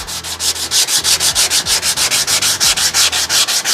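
Body filler on a dented truck panel being hand-sanded in quick, steady back-and-forth strokes, a close, loud rhythmic scratching with about five strokes per second and no talking.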